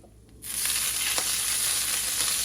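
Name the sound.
beef broth poured into hot skillet with meatball drippings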